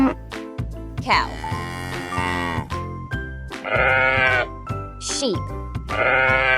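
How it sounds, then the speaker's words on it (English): Sheep bleat several times in a farm-animal sound sequence, wavering calls repeating over an accompanying musical backing. "Sheep."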